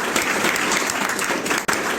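Applause from an audience at a Hindi comic poetry gathering (hasya kavi sammelan), steady and dense clapping filling the whole stretch with a brief dip near the end.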